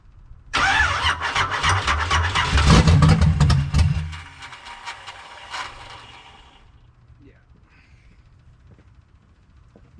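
A Pontiac Fiero engine cranks loudly for a few seconds, catches and roars briefly, then drops to a quieter, uneven idle that fades toward the end.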